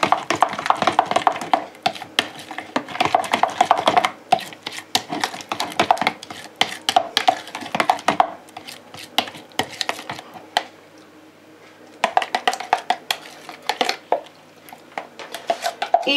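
Tortellini salad being stirred with a spoon after a small spoonful of olive oil, giving repeated close wet clinks and squishy scrapes against a bowl in bursts, with a brief lull before the mixing resumes.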